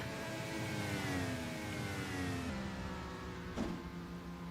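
IndyCar engine droning steadily during qualifying at Phoenix in a racing video game, a continuous mid-loud whine with shifting pitch as the car drifts loose through the corners, with no voices over it.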